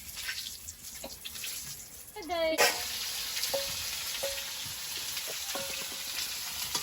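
Mustard oil sizzles steadily in a pan in a village kitchen, with a loud spurt of crackling partway through and occasional clinks on top.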